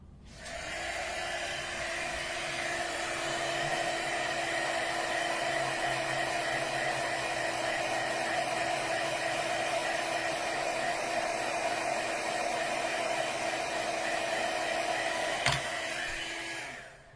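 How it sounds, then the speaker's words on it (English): A heat gun blows hot air over a Christmas card in red, green and gold, a steady close whooshing hiss with a constant tone that runs unbroken for about fifteen seconds and then switches off. "And then it's heat gun time again."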